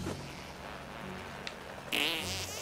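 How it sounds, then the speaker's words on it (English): A cartoonish fart sound effect in South Park: The Stick of Truth, a low buzzing rasp that builds to a brief louder burst near the end, heard alone without talking. "control the fart with L"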